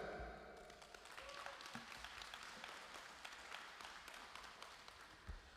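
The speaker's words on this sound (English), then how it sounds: "give a volunteer one big clap" A crowd at a mosque community gathering gives a volunteer a round of applause, dense clapping that holds steady for several seconds before tapering off, fairly faint and distant, with no talking.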